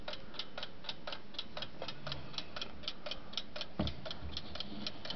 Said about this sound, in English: Antique wind-up alarm clock, all metal construction. It's currently working.